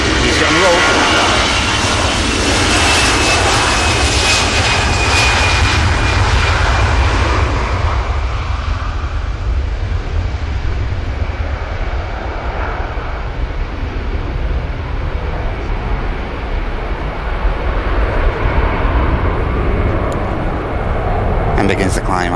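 A jet airliner takes off and climbs out at Manchester Airport, its engines a loud, steady roar that slowly fades and thins as it moves away, with talk underneath.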